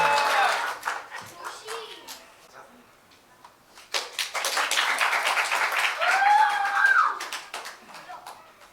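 An audience at a church Easter recitation contest breaks into a swell of clapping that builds and holds for several seconds, with voices heard around it.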